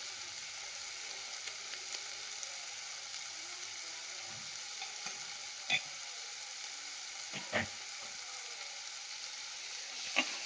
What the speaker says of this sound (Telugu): ఇవి మంచిగా పచ్చి టమాటాలు మంచిగా వేయించుకోవాలి